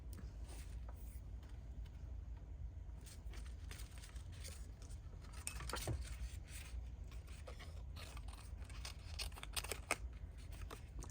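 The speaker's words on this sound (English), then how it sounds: "let me cut this off because this is already done" Scissors trimming paper scraps and washi stickers at a craft table, soft close snips and light paper rustles, quiet and intermittent over a low hum.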